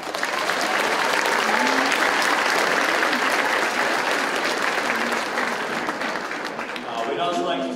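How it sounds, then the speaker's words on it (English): A large audience at a high school district music concert claps in a loud, sustained round that carries on throughout, with faint voices mixed in near the end. "A round of applause."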